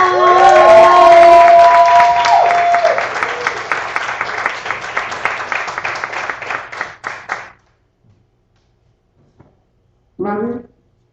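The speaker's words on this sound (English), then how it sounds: "let's give a big round of applause, please, for this lovely lady, Miss Robin." A crowd at a live spoken-word poetry show applauds and cheers loudly, the clapping thinning into scattered claps before fading out; a voice speaks briefly afterward.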